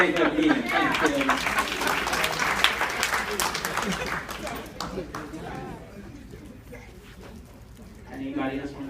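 A gathered crowd gives Kelvin a second round of hand claps for preparing the meat. Dense clapping is strong at first and gradually thins to scattered claps, with talk beneath and a brief swell at the end.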